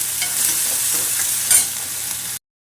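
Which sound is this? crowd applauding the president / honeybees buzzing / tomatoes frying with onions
tomatoes frying with onions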